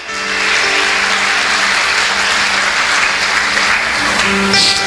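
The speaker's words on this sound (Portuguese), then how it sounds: "Mais uma salva de palmas para Jesus. Você pode aplaudir o Senhor?" A church congregation applauding, a loud, sustained burst of clapping that fills the space evenly with a faint background hum, no speech over it.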